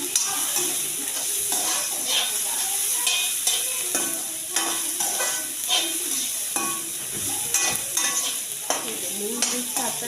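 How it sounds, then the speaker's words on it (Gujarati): Onions sautéing in a pan for a paneer and peas curry, a steady bright sizzle with repeated scraping stirs of a utensil against the pan, close and continuous with no talk. "ડુંગળી સાતરવા લાગી છે."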